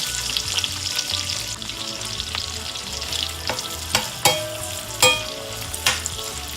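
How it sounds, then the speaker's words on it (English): Sliced onions sautéing in melted butter in a pot, a steady close sizzle with a few sharp utensil taps and stirring knocks toward the end. "I'm going to let the onions saute for about a minute or two"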